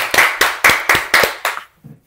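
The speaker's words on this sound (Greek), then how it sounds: "ένα χειροκρότημα για το δεκαδικό" Hands clapping in a short round of about six sharp, evenly spaced claps, close and fairly loud, fading out with a faint stray sound at the end.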